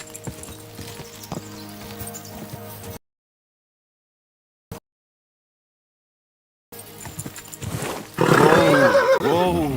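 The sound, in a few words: horse neighing in video game Kingdom Come Deliverance II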